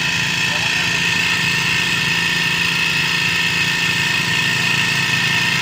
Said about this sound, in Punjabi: ਜਦੋਂ ਆਪਾਂ ਇੰਜਨ ਸਟਾਰਟ ਕਰੀਦਾ ਇੱਥੇ ਸਟਾਰਟ ਕਰਦੇ ਆ